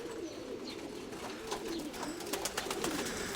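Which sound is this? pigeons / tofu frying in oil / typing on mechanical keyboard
pigeons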